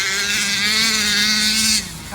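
A Rovan Baja 45cc gas-powered RC car engine drives hard at a steady high-pitched buzzing whine, close and loud, then drops off abruptly near the end.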